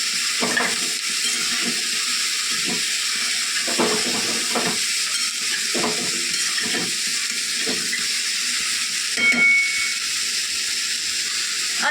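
Cauliflower bhaji frying and being stirred in a pan, a steady sizzling hiss broken by repeated scraping knocks of the spoon at irregular intervals, close and clear.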